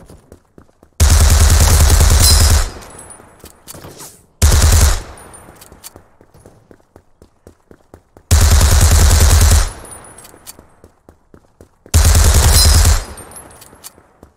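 Submachine gun fire in the Krunker shooter game: four long sustained full-auto bursts, loud and close, separated by short pauses with faint clicks and footsteps between them.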